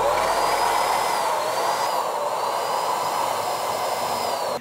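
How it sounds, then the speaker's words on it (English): A loud, steady rush of an air blower forcing air into the highest point of a Digital Storm PC liquid cooling loop to drain it, constant and close, cutting off abruptly at the end. "I'm gonna use a blower to blow in the highest point so it can come out the lowest point"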